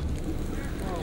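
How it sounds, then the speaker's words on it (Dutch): Strong wind buffets the microphone outdoors at a fire in Bergen, a loud, dense low rumble filling the short moment. "Die wind is heftig."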